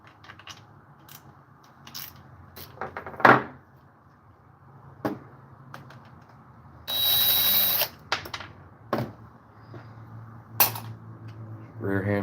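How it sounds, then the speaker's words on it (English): Screws come out of a chainsaw's rear handle bracket under a flathead screwdriver, with sparse metallic clicks and taps, one louder knock, and a brief steady hiss midway, close up in a quiet workshop. "Flathead screwdriver. Take the back screw out first."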